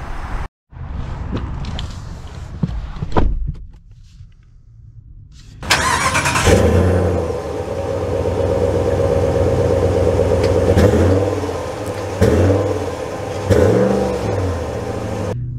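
A 2024 Ram 1500 Big Horn pickup truck cranks and starts up, its engine catching with a loud burst and then humming and revving steadily as it drives off, with no talking.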